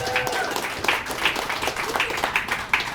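A crowd at a San Juan event applauds and claps, a dense, close burst of clapping that carries steadily through, with a few cheers mixed in.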